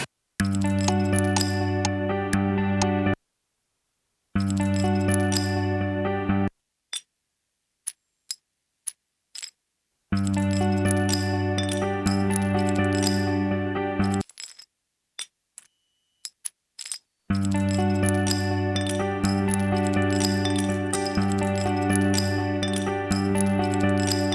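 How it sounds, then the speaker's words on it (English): A sequenced pattern of sampled broken-tile clinks forms a rhythm of sharp ticks and clicks in quieter gaps, alternating with stretches of loud, sustained, tonal music. "So I'm going to make a quick sequence with the tile sounds."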